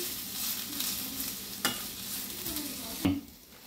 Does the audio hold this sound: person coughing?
no